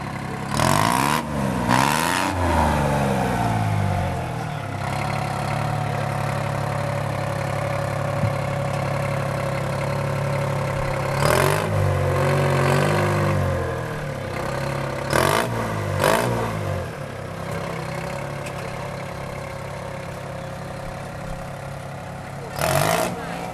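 An Oliver 99 Super tractor with a Detroit diesel engine idles and revs at an antique tractor show, with steady engine clatter broken by a few louder bursts and light background noise.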